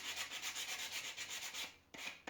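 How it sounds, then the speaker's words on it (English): Steady, rhythmic sanding of a wooden thrift store furniture piece, close and fairly loud, with repeated back-and-forth strokes that break off briefly near the end before resuming. "I'm just going to get this piece sanded"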